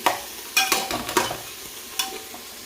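Whole masoor lentils, soybeans and peanuts being sautéed in a pan, with a few sharp scraping stirs over a soft, steady sizzle, close and moderately loud.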